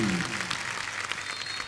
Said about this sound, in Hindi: कॉन्फिडेंस के लिए तो तालियां बनती हैं।